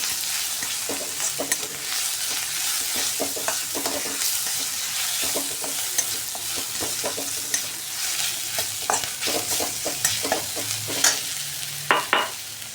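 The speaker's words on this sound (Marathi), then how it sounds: "पेस्ट बनवून घेतली होती ती घालून घेऊया. ते पण आपण तेलावर छान असं परतवून घेणार आहे." Ginger, garlic and coriander paste sautéing in hot oil, a steady broadband sizzle with repeated scraping stirs of a spoon against the pan, close and fairly loud throughout with no talking.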